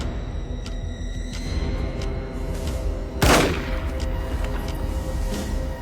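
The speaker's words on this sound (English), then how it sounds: "6 shots ring out" A single sharp gunshot cracks out in the middle of a tense movie scene, with faint muffled thumps and a low rumbling background before and after it.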